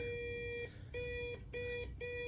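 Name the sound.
continuity tester beeper beeping while checking ignition points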